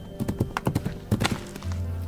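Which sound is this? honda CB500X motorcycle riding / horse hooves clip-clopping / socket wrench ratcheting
horse hooves clip-clopping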